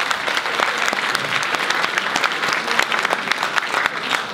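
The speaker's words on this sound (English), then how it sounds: "a big round of applause for us" An audience at a forum event breaks into loud, dense applause, continuous overlapping clapping throughout with scattered crisp individual claps.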